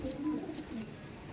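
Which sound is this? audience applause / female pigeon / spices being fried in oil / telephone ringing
female pigeon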